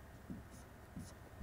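A pen scratches out a hand-drawn diagram in short, faint strokes over a steady background hum, close but quiet.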